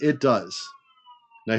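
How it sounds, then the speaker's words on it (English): Sirens wail faintly in the distance, a thin rising tone that carries between bursts of someone speaking indoors. "Sorry about the sirens in the background here."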